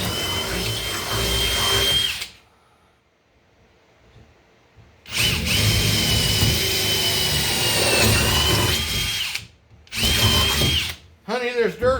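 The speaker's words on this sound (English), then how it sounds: "So we're just going to drill these out" A power drill bores holes for seat bolts in a 1966 Starcraft V-bottom john boat, with two long loud whining bursts and a shorter third, separated by quiet gaps.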